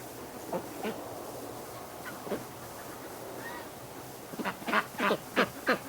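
Wintering domestic ducks quack, scattered single calls at first and then a quick series of loud, close quacks toward the end over a low outdoor background.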